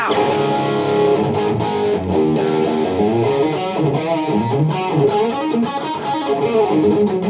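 Heavily distorted electric guitar, a Fender Deluxe Stratocaster HSS through a MOOER GE-200, plays a dense, loud, continuous riff with a thick, crunchy tone and no pauses.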